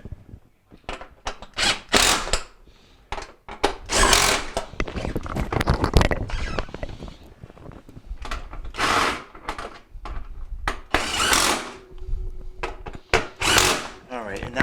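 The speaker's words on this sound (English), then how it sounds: "I'm just going to take my drill" Power drill driving screws back into a Jenn-Air refrigerator freezer drawer frame during a repair, close, loud whirring bursts in uneven short spurts, with clicks and handling noise between them.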